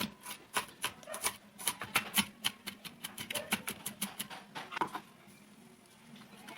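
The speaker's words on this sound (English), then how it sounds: "And this is how to mince the onions." A knife minces onions on a chopping board in a quick run of crisp, rhythmic taps that stop abruptly near the end, leaving quiet room tone.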